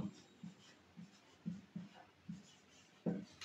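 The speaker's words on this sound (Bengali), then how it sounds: "আমি একটা নামের বানান লিখি, দেখো তো" Chalk or marker writing a word on a classroom board, a steady series of short scratchy strokes at an even rhythm, fairly faint and close, with no voices.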